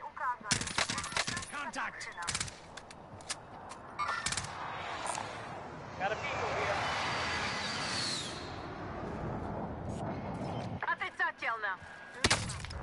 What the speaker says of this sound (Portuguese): Olha o tiro de sniper que eu tomei